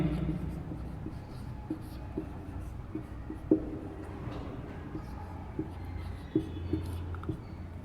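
Marker or chalk writing on a classroom board during an English grammar lesson, a steady scratchy stroking with small taps throughout, close and fairly quiet, with a teacher's voice faintly in the background.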